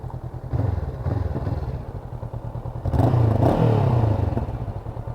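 Honda CB500X from 2019 idling and revving on a test ride, a close rumbling twin engine with light pops and crackles, louder in the second half.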